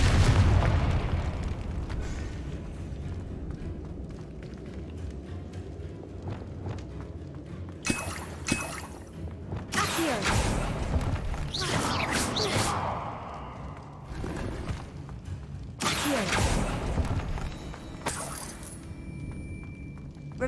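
Confringo explosion spells in the video game Hogwarts Legacy, several loud bursts and booms at irregular intervals over a rumbling game background, with a voice briefly heard between blasts.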